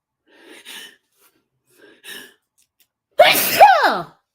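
A single loud sneeze bursts out after a couple of soft, hesitant breaths, sharp and close with a brief gasping lead-in.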